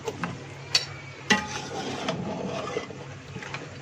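Beef for Bannu beef pulao being stir-roasted in a pot, with scraping, stirring and scattered sharp metal clinks of a spoon against the pot, steady and close with no talking.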